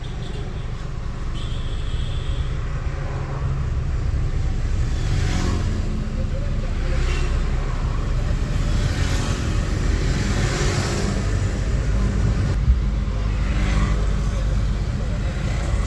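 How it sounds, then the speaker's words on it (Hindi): Car engine accelerating in second gear during a driving lesson, a steady moderately loud drone with road and cabin noise throughout, and occasional voices in the car. "चलिए एक्सीटर दीजिए, अब सेकंड गियर है ना"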